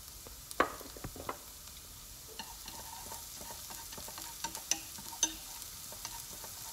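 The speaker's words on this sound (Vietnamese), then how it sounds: "phi thêm khoảng 5 phút nữa để cho tỏi và ớt nó dậy lên cái mùi thơm" Garlic and chili frying in a pan for garlic chili peanuts, a soft steady sizzle with occasional light clinks and stirring scrapes, quiet and close, no talk.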